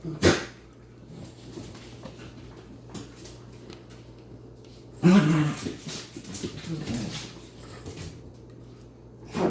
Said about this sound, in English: That's our little weenie dogs playing in the background